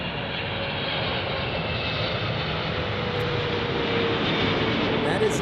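An airplane on its takeoff roll at Los Angeles International Airport, a steady, loud, broadband engine roar that holds constant throughout without clear speech.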